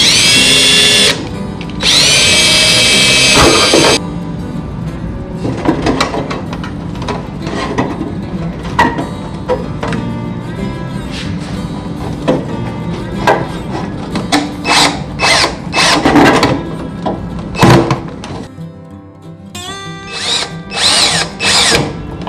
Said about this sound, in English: we'll add our 2 spitter downspouts by positioning them around their downspout sleeves and drilling and screwing them in place